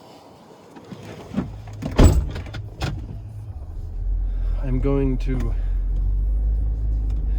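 A person gets into a car, with a door thump and shuffling movement close by while someone talks, then a truck approaches as a low, steady rumble that swells and holds.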